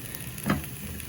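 Shredded cabbage dropped into a hot pan to fry, a brief soft sizzle swelling for a moment then settling into a steady quiet hiss.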